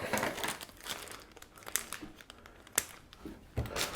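Cellophane crinkles and rustles in bursts around a hand-tied bouquet of six red roses as it is wrapped, with a few sharper crackles standing out close and alone, no voices.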